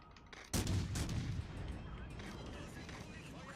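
Warship guns in the naval battle game World of Warships Legends fire a loud booming salvo that decays into a rumbling tail, with faint further reports and a voice talking quietly in the background.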